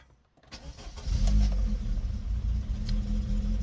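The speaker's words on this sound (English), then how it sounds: "Let's start the car up." A Rover 25 GTI with a high, rough idle and over-fuelling fault cranks and catches after about half a second, then settles into a loud, close, steady idle rumble with no talk.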